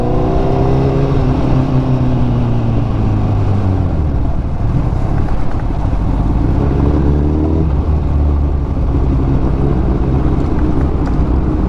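A superbike engine revs hard inside a tunnel, a loud, close, continuous roar with rising and falling pitch that echoes off the walls, with no talking.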